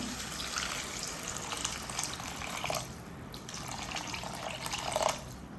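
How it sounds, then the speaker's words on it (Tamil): Water poured into a pan of sautéed masala vegetables for Maggi noodles, a steady broadband splashing rush running throughout with a brief lull midway, close and fairly loud, no talking. "நான் வந்து 400 to 450 ml தண்ணி ஆட் பண்ணுறேன்"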